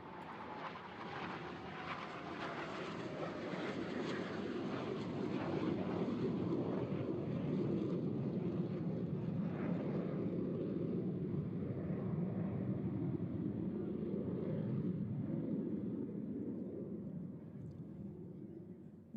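A Blue Angels jet in an air show practice passes overhead from right to left, inverted with gear, flaps and tail hook down, its distant roar swelling into a broad rumble that holds steady and then slowly fades, buffeted by wind.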